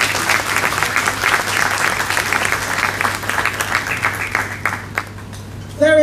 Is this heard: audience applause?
yes